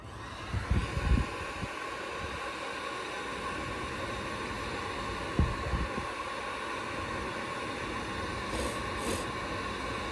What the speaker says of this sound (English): we're going to use the heat gun to stiffen it up so it won't lose the shape